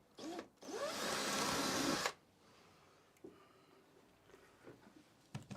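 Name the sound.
electric drill drilling hole in model railway layout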